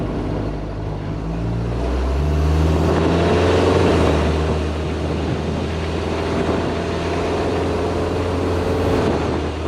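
Diesel-swapped Jeep TJ Wrangler with a water-to-air intercooler setup, its engine droning loudly and continuously from inside the cab as it drives and accelerates, the pitch swelling briefly before settling into a steady rumble.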